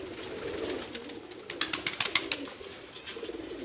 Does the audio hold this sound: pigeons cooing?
yes